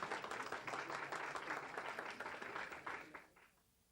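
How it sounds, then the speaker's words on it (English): An audience at a school and community meeting gives a round of applause, a dense patter of clapping from many hands that fades out after about three and a half seconds, fairly faint and distant. "let's give them all a little round of applause."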